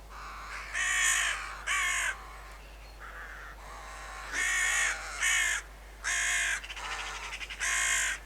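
Several magpies caw and chatter in harsh, excited bursts, about eight loud calls at irregular intervals close by, with a quieter call between them and no voices.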